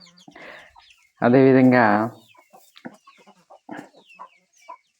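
Chickens in a farm field clucking near and far, one hen giving a loud drawn-out call, while someone speaks Telugu over the scattered clucks.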